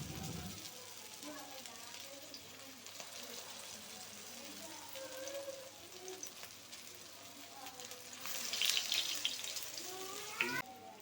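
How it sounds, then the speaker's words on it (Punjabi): Aloo tikki frying in hot oil over high heat: a steady close sizzle and crackle that grows brighter and louder toward the end, with faint voice murmurs underneath. "ਇਹ ਆਪਾਂ ਹੁਣ ਤੇਜ਼ 'ਚ ਤਲਾਂਗੇ"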